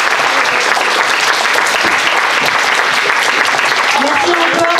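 A school audience claps loudly and continuously, a dense, even wall of applause that keeps going without a break.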